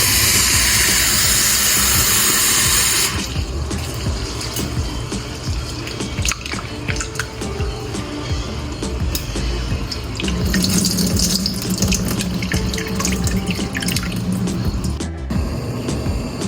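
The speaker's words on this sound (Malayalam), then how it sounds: "നമുക്ക് ചവ്വരി കഴുകി ഒന്ന് വേവിക്കാൻ വെക്കാം" Sago pearls are rinsed in water for a payasam, with steady running and splashing water that is loud at first and then continues as softer dripping and sloshing.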